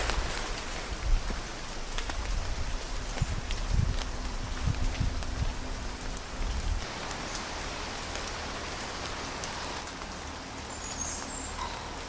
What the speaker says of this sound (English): It's been raining for the last few days.